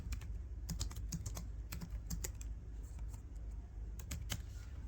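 Fingers typing on a computer keyboard while writing CSS code, a quiet, quick and uneven run of light key clicks in short bursts, with no voices.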